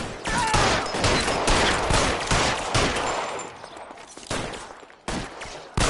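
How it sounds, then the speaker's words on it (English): Rapid bursts of suppression gunfire in the L.A. Noire video game, loud close shots in uneven volleys with brief gaps, no voices. "I'll lay down some suppression fire."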